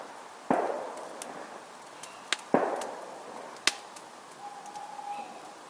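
Several distant fireworks pop and boom through trees at irregular intervals, with two louder bursts followed by fading rumble and crackle in a quiet outdoor campsite at night.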